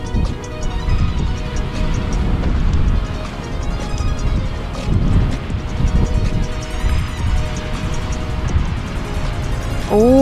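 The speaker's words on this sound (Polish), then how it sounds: "Są mega fale. Słychać szum już z daleka." Steady roaring surf on the Iceland coast at night, with big waves surging and breaking in a continuous wash, loud and close, without any speech.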